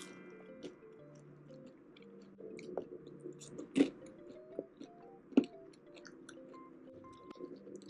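Close, crisp crunching and chewing of crispy fried chili peppers eaten with chicken and peanuts, with irregular sharp bites and clicks over several seconds and faint background sounds.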